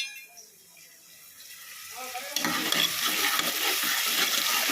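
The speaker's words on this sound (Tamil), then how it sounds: "இப்போ வந்து வெங்காயம் வதங்குது." Onions sautéing in a pan, starting quiet and then swelling into a steady, close hiss of frying and sizzling from about halfway through, with occasional stirring.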